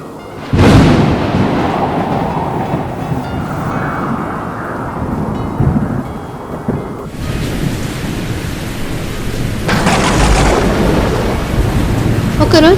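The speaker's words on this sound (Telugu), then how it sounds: "ఒకరోజు మంచి వర్షం కురిసింది." Heavy rain pours down steadily while a loud, close thunderclap cracks and rumbles early on, followed by more rolling thunder and an intensifying downpour, with no voices over the storm.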